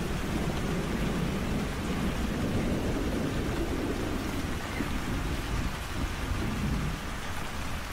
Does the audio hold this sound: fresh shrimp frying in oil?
no